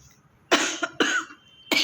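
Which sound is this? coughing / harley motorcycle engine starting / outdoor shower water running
coughing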